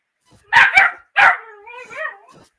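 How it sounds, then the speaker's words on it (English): A dog barks nearby in two or three loud, sharp bursts, then trails off into a drawn-out whining yelp. "My dog's barking."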